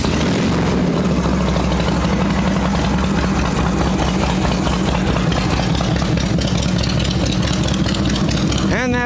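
A Harley Shovelhead chopper motorcycle engine, kicked over and then settling into a loud, steady, loping idle close by, with a person speaking briefly over it.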